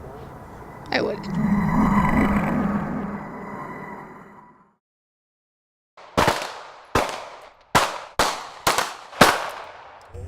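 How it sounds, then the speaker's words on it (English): A rumbling passage fades to silence, then six sharp gunshots ring out in a steady sequence through the woods of southeast Texas, each trailing off in a reverberant echo. "As gunfire echoes through the woods of southeast Texas."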